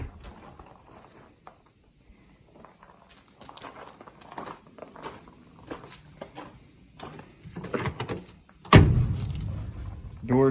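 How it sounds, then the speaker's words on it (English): Doors on a 1953 Chevy car being shut, with soft handling noises and light movement leading up to one solid, close thump near the end, followed by a short rumble. "Doors shut really nice."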